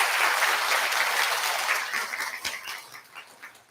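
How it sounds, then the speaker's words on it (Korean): An audience at a Buddha's Birthday dharma service at a temple applauds, a dense burst of hand clapping that starts full and thins into scattered claps as it fades. "큰 박수 한번 부탁드릴게요"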